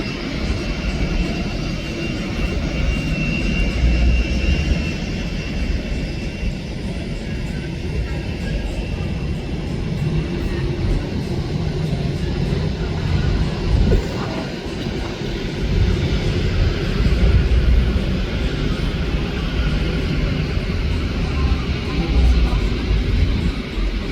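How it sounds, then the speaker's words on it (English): An Icelandair Boeing 757 jet airliner at Denver airport gives off a steady, broadband engine roar that holds at a fairly even, loud level throughout, heard from a terminal vantage point. "This Icelandair 757 has a very rich history."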